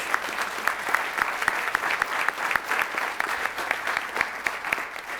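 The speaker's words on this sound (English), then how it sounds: "I think we ought to give a round of applause to each of the candidates" Audience at a presidential candidates' debate applauds the candidates, a steady moderate round of clapping with sharp individual claps standing out, continuing without pause.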